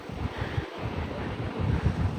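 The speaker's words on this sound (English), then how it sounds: "let's take a few last minute looks at La Jolla Shore" Pacific Ocean surf rolling in at La Jolla Shore, California, with steady wind buffeting the microphone; a continuous broad roar of waves and gusts with a brief dip in the middle.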